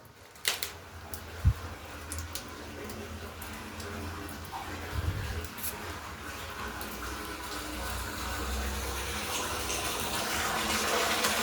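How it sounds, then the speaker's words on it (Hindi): A small household water tank fills, a steady rushing flow of water that swells gradually louder over the span, heard close with a few knocks early on and no talk. "ये मेरा टैंक भर रहा है, छोटा टैंक।"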